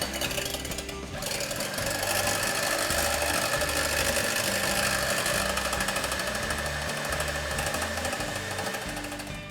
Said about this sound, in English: So we give a good whisk to the eggs.